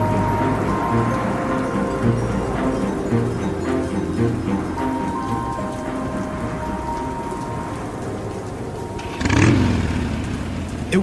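Motorcycle riding through a hard rainstorm and gusting wind, a steady engine drone with shifting tones under constant heavy rain, and a brief louder whoosh near the end.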